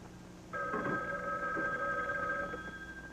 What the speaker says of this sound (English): Oh, Rochester, answer the phone, please.